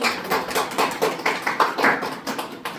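A live seminar audience welcoming a lecturer with applause: dense, steady clapping from many hands in a room, continuous for a few seconds with no talk over it.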